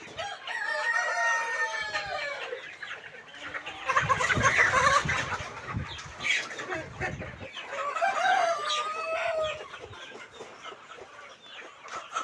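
Aseel chickens at a chick farm cluck and call in a busy, close chorus, with drawn-out crowing-like cries and scattered clucks overlapping throughout.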